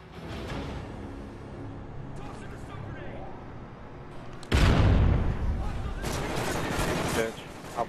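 Gunfire in a team-based first-person shooter match, a dense wash of shots and blasts that swells loudly about halfway through, with players talking over it.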